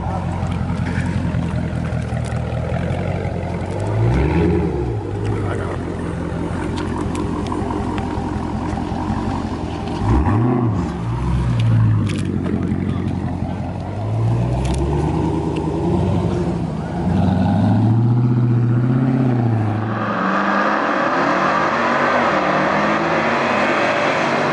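Dodge Charger 392 and R/T cars racing past a bridge, loud engine roars rising and falling as several cars sweep by in sequence, followed by a steady broadband rush.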